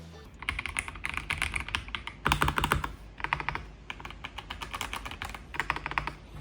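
Logitech K98M gasket-mount mechanical keyboard typing with marble switches, a steady clatter of crisp, slightly muted keystrokes, heard close up and alone, with one brief faster flurry.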